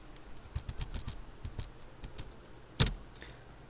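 Someone types code on a computer keyboard in a quiet room, with a steady, close patter of light key clicks and one sharper, louder keystroke near the end.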